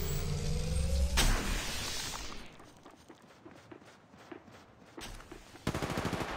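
Rapid automatic gunfire from the mobile battle royale Apex Legends Mobile, opening with a loud burst, falling to a quieter, sparse stretch with faint clicks and shots, then closing with another dense, close volley.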